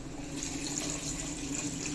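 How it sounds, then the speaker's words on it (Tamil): Water pours steadily into a simmering pan of restaurant-style gravy. It makes a continuous close splashing rush for about two seconds, with no talk. "இப்போ இதுக்கு தேவையான தண்ணியை சேர்த்துக்கோங்க."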